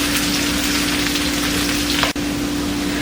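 Red potatoes pan-frying in hot oil give a steady, dense sizzle and crackle close by, broken once by a brief dip in the sound, with no talking.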